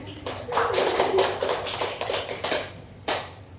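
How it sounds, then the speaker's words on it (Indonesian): A short burst of scattered hand claps from a small class of students, uneven and quick, fading after a few seconds with a final clap. "Boleh tepuk tangan untuk semuanya?"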